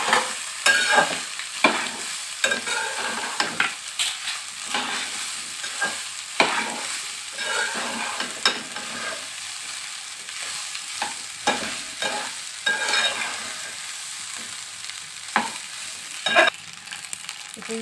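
Cooked rice for egg fried rice with ginger-garlic paste sizzles steadily in a hot pan, broken by repeated scraping and tapping of a spatula as it is stirred, with no talk.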